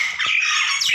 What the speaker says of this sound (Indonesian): saat berkicau jalaknya jantan lebih bervariasi dan kencang